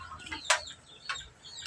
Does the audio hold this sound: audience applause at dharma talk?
no